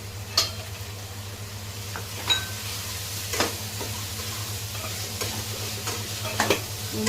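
Finely chopped onions fry in a pan for masoor dal with a continuous sizzle, punctuated by several sharp spatula scrapes and taps at irregular intervals.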